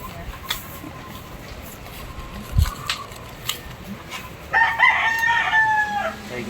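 A native rooster crows on a farm, heard at a moderate distance with scattered clucks and rustling before it and a few faint voices in the background.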